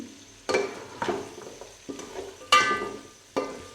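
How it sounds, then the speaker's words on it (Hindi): Masala frying (bhuna) for mutton yakhni pulao, stirred with a spoon in the pot: a few sharp scraping stirs spaced about a second apart over a soft continuous sizzle, close up and with no talking. "इसको मैं थोड़ी देर के लिए और भूनूंगी"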